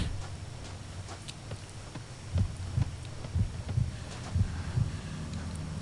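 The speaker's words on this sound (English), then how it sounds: "See how she started to pant and you heard a heartbeat?" Slow, regular heartbeat thumps from a tired character in the Kuon game, low and muffled, about six beats after a quieter stretch, over a faint steady hum.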